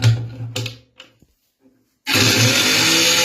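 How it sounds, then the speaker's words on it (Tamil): A mixer grinder fitted with a pressure cooker as its jar: a few soft knocks and clicks, a brief hush, then the motor starts abruptly and runs at a loud, steady whirring roar to the end. "இனி இந்த குக்கர் ஜாரை மிக்ஸில வச்சு ஆன் பண்ணி பாத்திரலாம்."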